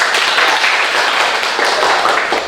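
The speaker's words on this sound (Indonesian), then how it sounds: "Silakan tepuk tangan." Classroom applause from students in an informatics lesson, a dense, steady wash of many hands clapping together for the full stretch with no pauses, fairly loud and close.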